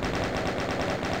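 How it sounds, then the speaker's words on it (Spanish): Rapid repeated gunfire in the video game Doom, a quick evenly spaced burst of shots that runs for just over a second at moderate loudness with no voices. "Le disparé al barril por si acaso para matarlo"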